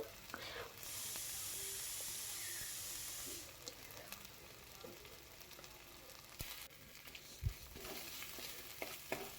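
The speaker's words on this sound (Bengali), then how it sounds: "রসুনটাও ভালো করে তেলের মধ্যে ভেজে ভেজে নেবো" Onion and garlic paste frying in oil for a curd-style katla fish curry, a faint sizzle that is strongest early on, then thinner with scattered stirring clicks and knocks.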